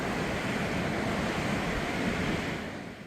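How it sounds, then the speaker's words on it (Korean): Strong waves break on the East Sea coast at Uljin, a continuous broad roar of churning surf mixed with gusting wind, loud and steady, fading slightly at the end. "오늘 파도가 세서 그런지 더욱 드라마틱해 보입니다."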